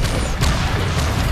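A grenade launcher round bursts in the video game Tribes 3: Rivals, a loud, close, booming blast with a rumbling low tail, alone and short.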